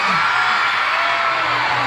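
A large outdoor festival crowd at a variety show in Bacolod City during Panaad 2025 shouts and cheers together in a loud, sustained roar of whoops and yells.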